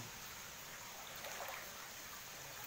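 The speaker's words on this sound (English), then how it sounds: "So the water has its moderate flow and mixed with the cold water instead of the hot water that sprung from a dormant volcano." Hot spring water flows at a moderate rate, mixing with cold water from a spring fed by a dormant volcano, a steady close rushing wash with no voices.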